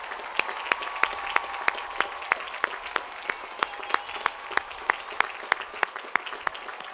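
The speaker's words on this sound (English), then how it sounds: "Let's give them a big round of applause." Graduation ceremony crowd at Cal Poly San Luis Obispo applauding, a broad sustained wash of clapping with distinct individual sharp claps standing out in a loose rhythm, large and reverberant.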